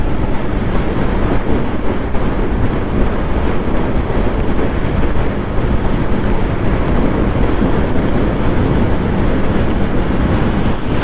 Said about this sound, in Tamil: ஃபுல்லாக டனல்குள்ளே தான் போயிட்டுருக்குங்க நம்ம வண்டி.